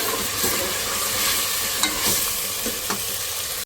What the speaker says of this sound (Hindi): उसके साथ मैं गोश्त को भून लूँगी।